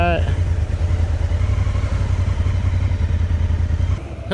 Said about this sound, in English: Riders included myself on my Honda Africa Twin, my son on his Kawasaki KLR 650